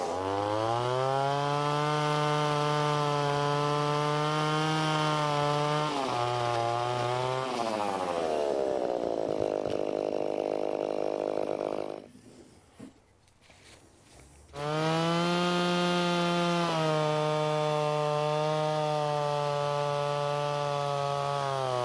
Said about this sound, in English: I used a chainsaw to cut the slab of wood to shape